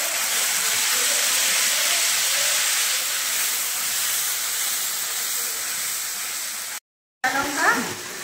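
Ginger, green chilli and tomato paste sizzles steadily in a hot pan for several seconds, a broad bright hiss that cuts out briefly before crackling back with a louder burst.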